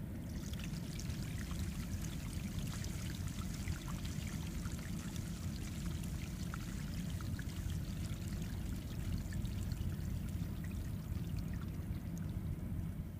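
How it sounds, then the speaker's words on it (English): Grey water from an RV camper tank rushes out through a newly replaced drain valve in a steady, moderately faint gushing pour that runs on without a break. "I'm going to go ahead and release the valve now, and you guys should hear the water release out there too."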